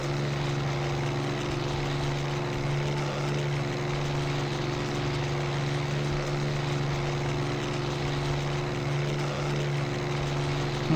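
Propeller engine of a WWI fighter plane in the flight combat game Wings of Honour: Battles of the Red Baron, a steady droning hum with a constant low pitch, loud and unbroken throughout.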